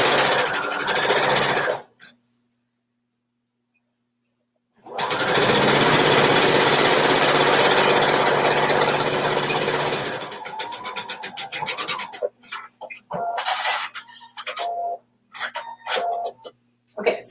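A sewing machine stitches a self-fabric belt loop for a kimono robe in loud, dense mechanical bursts, stopping briefly, then resuming in shorter stop-start runs toward the end.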